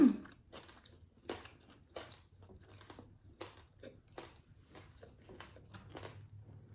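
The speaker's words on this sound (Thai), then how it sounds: "กรอบหมูทอดทุกคน" Crispy fried pork eaten with papaya salad, crunched up close in a steady series of about a dozen sharp, crackly bites.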